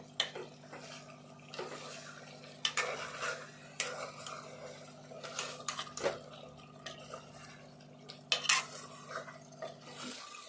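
Goat head bone pieces cooking in oil and stirred in a pot, a scattering of sharp scrapes and metallic clinks over a steady low hum, fairly quiet and close.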